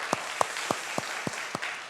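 Hands clap at a church Friday prayer service to welcome young people, about seven sharp, evenly spaced claps in a quick steady rhythm, fairly close and clear.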